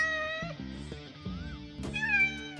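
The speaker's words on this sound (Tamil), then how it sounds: "ஓ கேட்." A cat meows over a background of music, its voice faint and partly masked by the scored sound.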